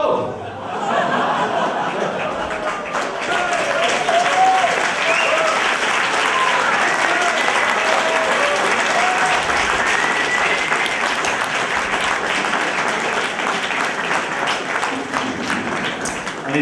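An audience applauds after a Pecha Kucha performance at the SAT, with dense, sustained clapping filling the room for many seconds. Scattered chuckles and murmurs mix into the crowd noise.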